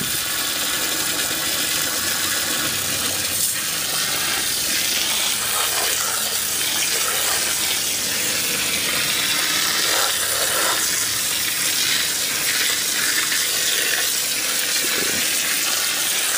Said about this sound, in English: Usually takes a few minutes of watering them for the water to start pouring out the bottom though.